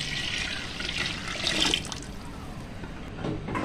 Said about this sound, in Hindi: इसमें हम 5 किलो पानी डालेंगे